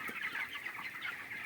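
Chickens clucking on a poultry farm with a flock of about 5,000 birds, 25 days old: soft, continuous overlapping clucks and murmurs from many birds, moderately distant and fairly quiet.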